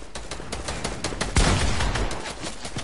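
Rapid bursts of SMG gunfire from a squad-based shooter video game, a dense rattle of shots with a louder cluster around the middle, continuing without any talk.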